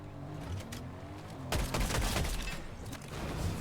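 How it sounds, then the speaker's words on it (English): Video game gunfire: a quiet stretch of distant muffled noise gives way to a sudden loud burst of rapid shots that keeps rattling on through the rest. "Is he getting shot at as well now?"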